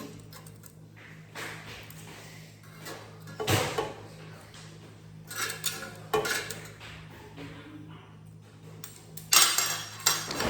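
Dishes and cutlery clink as fish fry is served onto plates, with scattered close metallic taps and scrapes separated by quiet pauses and a faint background hum.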